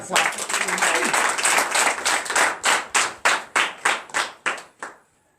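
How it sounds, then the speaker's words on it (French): A congregation claps at a morning prayer service: dense mixed clapping at first, then settling into about ten loud, evenly spaced unison claps that stop abruptly. "Donnez de l'acclamation."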